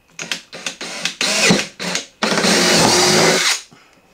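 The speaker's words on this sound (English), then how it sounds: "all I'm gonna do is drill a pilot hole for the jigsaw" A power drill whirs in several short bursts, then runs steadily for over a second as it bores a pilot hole into a cheap cooler, close and loud.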